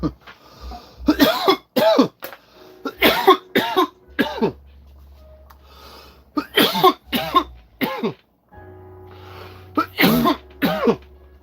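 Repeated coughs come in several separate bursts, fairly close and loud, with a short fog machine hiss at points between them; no speech is heard.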